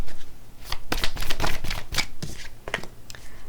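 Tarot cards being shuffled by hand, a quick series of crisp riffling flicks and soft slaps close to the listener, bursting in an irregular rhythm across a few seconds.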